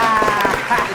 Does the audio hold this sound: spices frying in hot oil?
no